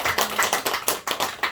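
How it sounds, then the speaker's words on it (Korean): A congregation at Yeongshin Church claps together during a Sunday service, a brisk, even run of about eight sharp claps, close and moderately loud. "영광의 박수."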